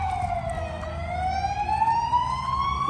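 An emergency vehicle siren wails steadily, its pitch gliding down and then rising again as it passes fairly close, with low traffic rumble beneath.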